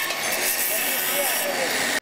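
Angle grinders cutting through a metal fence: a loud, steady, high-pitched grinding roar that fills the whole stretch and then cuts off abruptly at the end.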